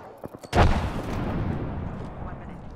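A frag grenade goes off in Apex Legends as one loud, close boom, with a rumbling tail that lingers for a couple of seconds. A few soft thuds come just before it.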